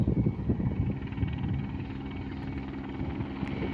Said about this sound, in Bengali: উপর দিয়ে হেলিকপ্টার যাচ্ছে।